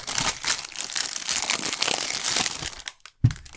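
Cheap plastic bag crinkling and rustling steadily as a portable emergency radio is pulled out, with a brief pause and a final crackle near the end.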